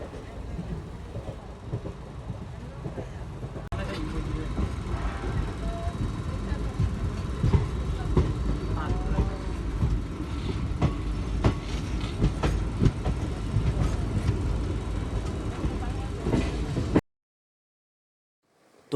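Rumbling interior of a moving passenger train bound for Agartala from Kumarghat in Tripura, a steady low roar with wheel clatter and faint voices in the carriage throughout, ending abruptly in silence.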